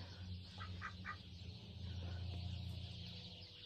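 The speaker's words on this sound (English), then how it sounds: "But these are my ducks." A flock of farm ducks, about seventeen birds, giving a few short quacks early on over a low rumbling background, faint and somewhat distant.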